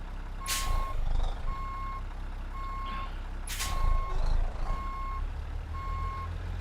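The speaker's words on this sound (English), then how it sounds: "Yeah, the truck behind you beeping." Steady truck reversing beeps in American Truck Simulator repeat at an even pace over a rumbling engine, broken by two sharp hisses of air brakes.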